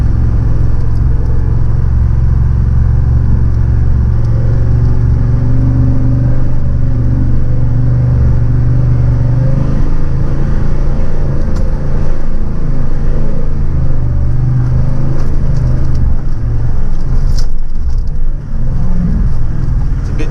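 An off-road vehicle crawls along in second gear, low range, its engine a steady, loud low rumble throughout with no talk over it.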